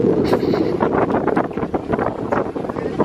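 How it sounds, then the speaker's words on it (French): Gusty wind buffets the microphone in loud, uneven rumbling bursts on a boat as rain begins, with splashing water and a voice faintly audible underneath. "Il y a du vent."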